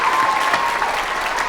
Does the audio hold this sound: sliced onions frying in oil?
no